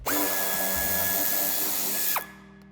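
A power screwdriver spins out an 8 mm-head bumper screw on a 2017-2024 BMW X3 G01, a loud, close whine lasting about two seconds before winding down abruptly.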